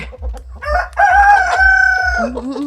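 A rooster crows loudly and close, one long drawn-out call with a falling finish, preceded by a few short clucks.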